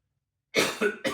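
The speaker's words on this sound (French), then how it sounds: "excusez-moi d'avoir toussé comme ça" A single sharp cough after a moment of silence, followed by a couple of shorter coughing bursts, close and fairly loud.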